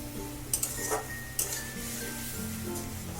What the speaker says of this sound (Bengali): সামান্য একটু জল দেব, দিয়ে মশলাটাকে আমি একটু ভালো করে কষিয়ে নেব